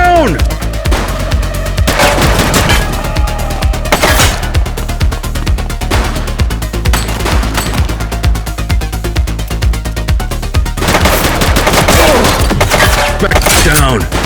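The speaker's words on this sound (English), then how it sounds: "Shots fired!" Gunfire in the cop game The Precinct: repeated bursts of shots crack out over a steady music-like background, with clusters of loud reports recurring throughout and dense volleys near the end.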